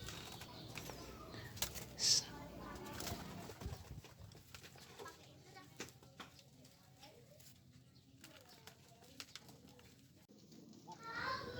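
A white-winged iplik pigeon, a crested domestic breed, coos softly in a few low calls amid faint bird sounds and someone talking nearby.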